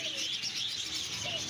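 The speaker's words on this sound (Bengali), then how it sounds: "পাখিগুলার কিচিরমিচির আওয়াজ আসলেই ভালো লাগতেছে" Small birds in a pet and aquarium shop in Sylhet give faint, brief chirps over a low indoor hum and murmur.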